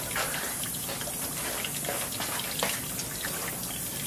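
Hot cast metal is held under running water to cool it, with a steady gushing, splashing flow and a few faint clinks, fairly quiet and without talking.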